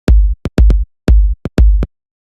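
Simple techno drum groove built in a DAW: punchy, loud kick-like hits with short ghost hits between them, repeating in a steady syncopated pattern with no voices.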